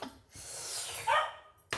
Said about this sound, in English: Oh, that's my doggy barking.